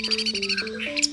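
Orange-headed thrush (anis merah) giving a run of bright, repeated chirps and tweets in close succession, clear and fairly near, with no talk over it.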